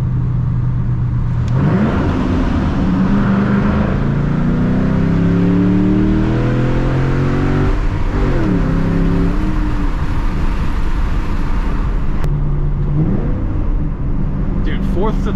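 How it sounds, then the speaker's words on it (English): A 2007 Mustang GT engine revs and drops through downshifts on backroads, the pitch sliding up and down repeatedly, with a person talking over the steady road noise. "A little downshifty going under the bridge"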